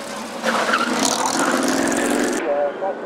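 A 400 horsepower small block Chevy V8 hillclimb racing car roars past on a speed hillclimb course, its loud engine note rising and then cut off abruptly, with a commentator talking over it.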